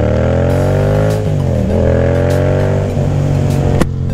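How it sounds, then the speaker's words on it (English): Yamaha FZ-07 motorcycle closing off throttle from around 3000 RPM, a loud close exhaust note dropping in pitch into a dense, uneven burble with scattered crackles and pops. "From like 3000 RPM, we just let it off the throttle and this thing burbles like no tomorrow"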